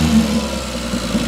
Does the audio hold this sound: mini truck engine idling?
yes